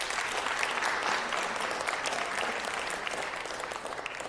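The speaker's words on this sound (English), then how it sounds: "So a round of applause once again." Steady, dense applause from a crowd at a Los Angeles City Council meeting honoring sports coaches, continuous and full throughout with no talking over it.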